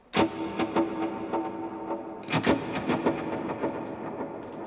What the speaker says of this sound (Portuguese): eu tenho uma configuração que ele splita o meu sinal do meu delay e ele faz um dotted com uma semínima